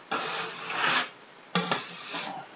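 A dough scraper rasps across a floured table while making donuts, two close scraping strokes with a short pause between them and no talk.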